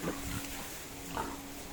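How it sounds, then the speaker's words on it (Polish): Pigs grunting in a farm pen deep with manure, a steady close mass of snorts and low oinks over a constant barn hum, with no one talking. "kolejny kojec, kolejne świnie, które mają tego obornika bardzo dużo"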